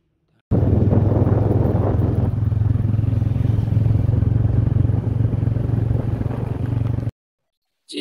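A motorcycle engine drones loud and close with a steady low rumble, starting abruptly and holding for several seconds before cutting off.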